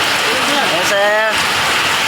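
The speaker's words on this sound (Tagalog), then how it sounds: "Lakas ng ulan." Heavy rain pours in a dense, unbroken hiss that fills the whole moment, with a brief tonal whine rising through it midway.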